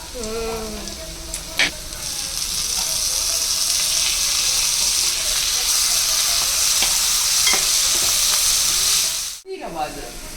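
Wheat semolina roasting in ghee in a pan, a continuous bright sizzle with scraping stirring strokes, steady and close, cut short by a brief pause near the end.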